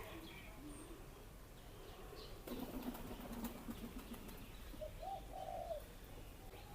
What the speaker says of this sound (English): I'd say the pigeons are very happy here.